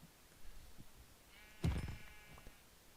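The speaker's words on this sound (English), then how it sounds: "There's a white sheep." A single sheep in a video game lets out one clear, drawn-out bleat midway, close and fairly loud over faint background sounds.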